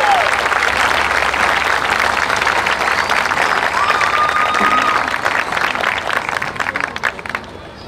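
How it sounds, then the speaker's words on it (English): Sustained audience applause at the West Lampeter Community Fair's 2024 queen ceremony, loud dense clapping from a crowd that holds steady for several seconds before gradually thinning out at the end. "One more round of applause for our 2024 West Lampeter Community Fair Queen, alternate, and all contestants"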